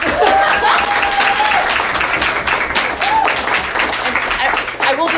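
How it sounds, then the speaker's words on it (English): An audience at a talk about dating and marriage gives a steady round of applause, dense clapping that stays loud throughout with a few voices calling out. "give them a round of applause, everybody"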